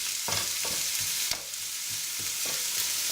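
Single onion frying lightly in a pan, a steady soft sizzle running throughout with a few scrapes of stirring and one sharper clack near the middle.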